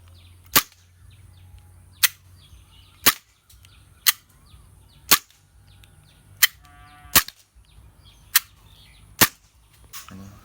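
A spring BB gun cocked and loaded one round at a time fires nine sharp, loud cracks at roughly one-second intervals, with faint mechanical handling noises between shots and no talking.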